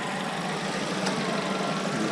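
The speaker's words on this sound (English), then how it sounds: "The engine." An MG 3 with a DVVT engine idles under its open bonnet, a steady, close hum with a faint mechanical ticking and no talk over it.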